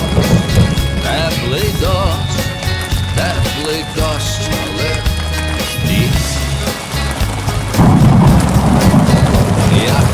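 Steady heavy warm rain pours down with rumbling thunder rolling underneath, the downpour swelling louder near the end.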